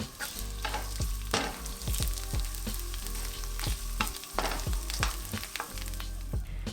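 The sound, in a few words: ginger and shiitake sizzling in hot oil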